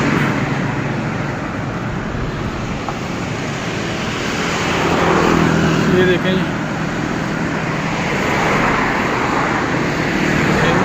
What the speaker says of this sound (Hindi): और इस साइड से ट्रैफिक आ रही है माशाल्लाह